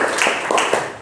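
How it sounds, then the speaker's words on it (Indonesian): Short burst of classroom clapping for a student, several pairs of hands slapping quickly and close together for about a second, with no talk. "Tepuk tangan untuk Zafa dulu"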